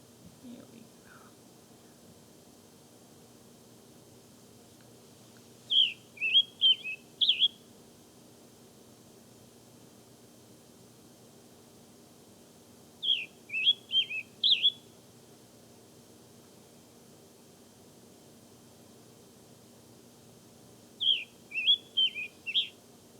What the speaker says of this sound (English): I'll hear a song and go, it sounds like a tanager